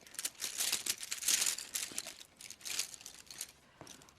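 Rune stones shuffled together give a steady, soft crinkling clatter that runs without a break, close and fairly quiet, with no voice over it.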